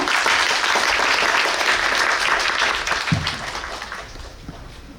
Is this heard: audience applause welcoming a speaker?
yes